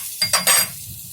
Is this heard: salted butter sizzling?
yes